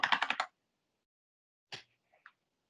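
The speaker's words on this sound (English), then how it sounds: "You can see some terrible typing by me here" A short burst of rapid keystrokes on a computer keyboard, five or six quick clicks close by, then silence and a couple of isolated taps later.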